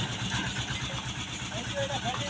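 A mini tractor's engine chugs in a low, rapid, steady pulse, fairly close, with voices present over the running motor.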